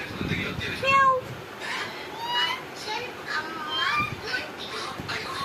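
Cat meowing indoors, a few short high mews among children's chatter and play, fairly faint and close.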